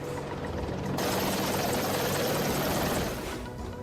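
An Apache helicopter flies overhead, a loud, continuous broadband rotor and engine roar that swells after the first second and holds steady before easing at the end, with no voices.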